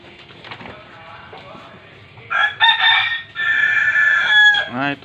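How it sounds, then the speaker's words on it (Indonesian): Rooster crowing loudly and close by in one long drawn-out call, after a quieter stretch of faint clucking and background noise. "Nah, itu suara ayam, guys."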